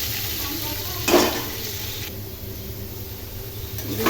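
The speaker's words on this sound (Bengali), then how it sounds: "আলুগুলো ভাজতে দিয়ে দিয়েছি" Potatoes fry in a pan for a soybean curry, giving a close, steady sizzle with a sharp stirring scrape about a second in and a fainter one near the end.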